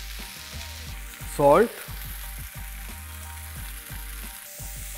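Tomato masala with red chili powder, garam masala, turmeric, kasuri methi and black pepper sautéing in a pan for a chutney, a steady close fry with repeated stirring scrapes and a brief louder hiss partway through.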